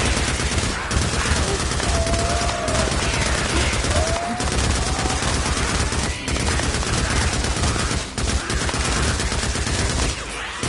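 An MG55 machine gun in the game Days Gone fires in dense, sustained bursts, loud and continuous with short pauses, amid a chaotic horde battle.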